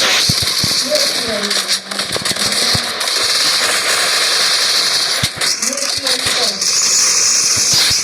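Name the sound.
AWM sniper rifle headshots in a video game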